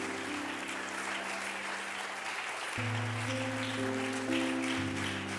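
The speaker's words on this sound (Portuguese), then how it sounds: "eu vou bater palmas" Steady applause of many hands clapping continuously during church worship, a dense crackling wash, with sustained music tones underneath.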